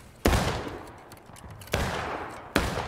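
Three separate musket shots ring out in the Civil War video game War of Rights, each a sharp crack with a decaying tail, spaced about a second and a half apart.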